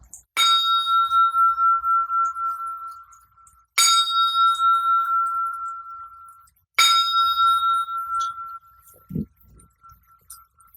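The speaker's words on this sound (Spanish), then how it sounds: "escuchen cómo suena esta campana." Bell struck three times in a quiet room, each strike ringing bright and clear before a long, slowly fading resonance, with a soft low thump near the end.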